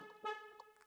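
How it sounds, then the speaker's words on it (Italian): A VW T-Roc sounds two short, faint horn toots in quick succession as it unlocks, heard from a little distance. "doppio colpo di clacson e mi apre la macchina"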